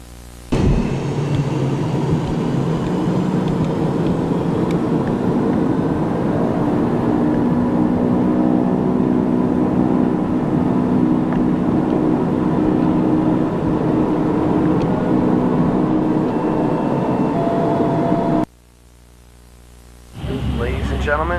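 A small Skyhawk airplane's engine roars loudly and steadily for a takeoff, droning continuously before cutting out abruptly near the end.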